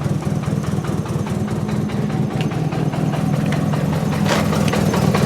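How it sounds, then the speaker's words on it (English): A Nissan 240SX with a CA engine idles roughly and unevenly, its cracked downpipe leaking exhaust, giving a steady close, loud low rumble with a ticking, chuffing edge and no talk. "I have an exhaust leak because I think my downpipe cracked. I don't know why it won't idle right."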